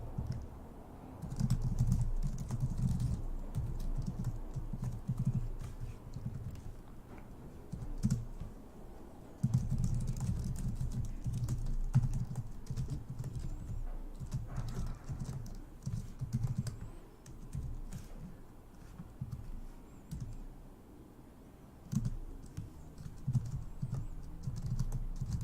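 Code is typed steadily on a computer keyboard, dense rapid key clicks and thumps close to the microphone with brief pauses, no speech.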